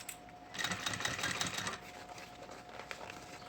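A sewing machine runs in one steady burst of rapid stitching, stitching a seam on a school pencil case made of synthetic fabric, then stops, leaving quiet room tone.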